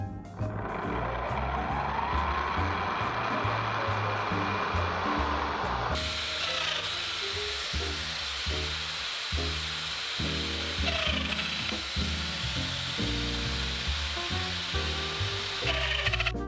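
A Festool Domino joiner cuts mortises in wood, starting with a sustained high whine from the spinning bit, then continuing with a louder, rhythmic plunging and chattering as the cutter works back and forth, close and steady throughout.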